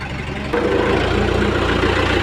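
A tractor engine idles close by with a low, steady chugging rumble that grows slightly louder after a brief change.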